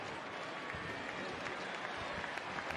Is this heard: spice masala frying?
no